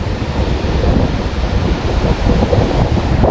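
Strong storm wind buffets the microphone on a beach at Forster, New South Wales, with heavy ocean surf crashing and roaring continuously, loud and close, no voices.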